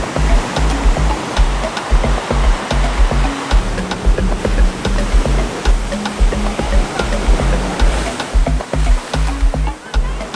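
Small, beginner-sized surf waves break on a beach at Las Terrenas in the Dominican Republic, giving a steady, loud wash of roaring surf with repeated low thumps as each wave crashes.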